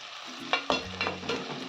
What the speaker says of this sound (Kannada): ಮಲ್ಲ ನೀರುಳ್ಳಿ ಕಟ್ ಮಾಡ್ದು ಪಾಡೊಂದುಲ್ಲೆ